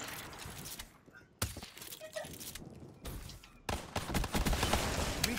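Pistols fire in a Call of Duty match, with several sharp shots and bursts scattered through the passage among busy game noise and faint voices.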